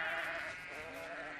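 A single sheep gives one sustained, wavering bleat up close. The call is loud and fills the short moment with no other sounds around it.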